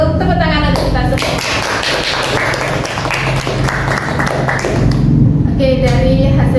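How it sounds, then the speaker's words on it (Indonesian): A classroom of children and their teacher clap together in a dense, steady burst of applause lasting several seconds. Voices are heard just before it starts and again as it fades. "kalau begitu tepuk tangan untuk kita semua"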